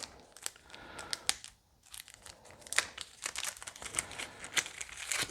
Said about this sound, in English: Now if I can just get a plastic bag open.